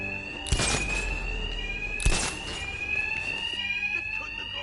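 A fire alarm rings in the video game Batman Arkham Knight, a steady high electronic tone running throughout, with two loud crashing impacts over it.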